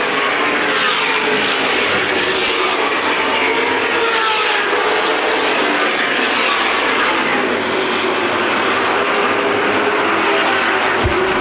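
Late model race car engines roar continuously at close range on the Winchester Speedway oval, a loud droning whine with shifting pitch as the cars circle the banked track.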